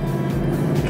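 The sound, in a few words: 6.2 litre V8 engine of a Mercedes SLS AMG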